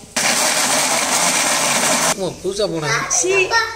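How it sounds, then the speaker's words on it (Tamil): Kitchen blender grinding ingredients with milk and cocoa powder, a loud steady whirring roar that stops after about two seconds, followed by talking. "இப்போ கூட கொஞ்சோண்டு பாலை ஊற்றி அரைப்போம்"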